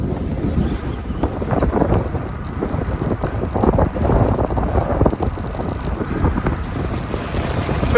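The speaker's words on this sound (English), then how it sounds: "It's very windy" Strong wind buffets the microphone during a road bike ride on Dartmoor toward Princetown, a steady, loud rumbling roar with gusty swells running through the whole stretch.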